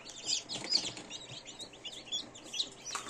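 Newly hatched chicks cheep from an incubator in thin, high peeps that come in quick scattered bursts, faint and close, with several chicks calling at once.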